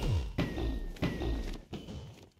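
Explosions set off against the ender dragon in Minecraft, a few heavy thuds going off one after another at a close, moderate level, each one followed by a short rumbling decay.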